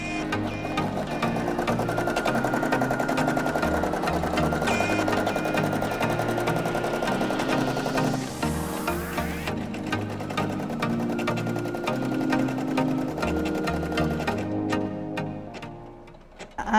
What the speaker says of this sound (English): Now I'm just gonna go ahead and hit the green button to continue stitching out the bear.